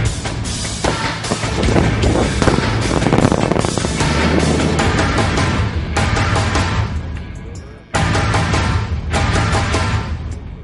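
Thunderous rumbling roar of an open-pit mine blast, loud and sustained with rolling bursts and debris noise, a brief dip near the end before the roar resumes.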